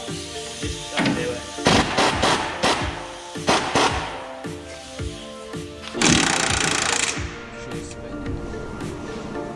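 A socket wrench tightens a sway bar link on a Ram 1500 during a leveling kit install, giving bursts of rapid ratcheting clicks and metallic rattling, close and fairly loud, with a longer continuous buzz near the end.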